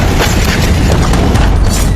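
Huge blast in Beirut, heard as a loud, continuous low-heavy roar and rumble lasting the whole stretch, dense and unbroken with no voices.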